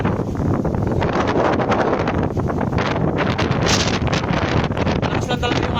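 Strong outdoor wind buffets the microphone in a loud, continuous rumbling roar with gusty surges, nearly covering any other sound.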